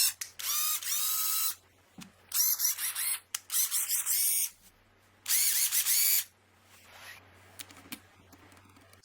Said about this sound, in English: Checking the gears to make sure everything is moving smoothly.